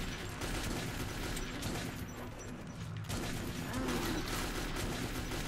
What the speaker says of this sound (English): And that's why I use a trusty shotgun.